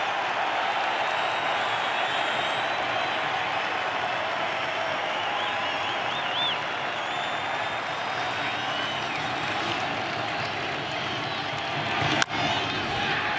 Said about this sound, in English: Crowd once again.